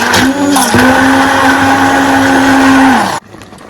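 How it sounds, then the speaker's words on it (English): A loud, steady whir from a kitchen blender puréeing fresh onions and vegetables for Ghanaian ayoyo leaf soup runs for about three seconds, then cuts off abruptly. "So let's go ahead and blend with the help of our"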